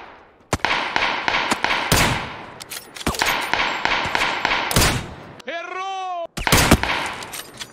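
Gunfire in a survival shooter video game comes in loud, close rapid volleys that stop and restart several times, with a brief tonal sound in one of the gaps.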